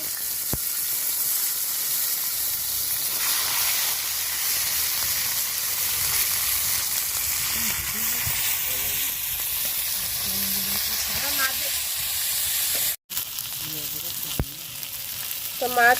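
More river bata fish sizzling in a pan of oil, an even close frying hiss with scraping stirs and small clinks from a utensil, the sizzle briefly dropping out before it returns louder.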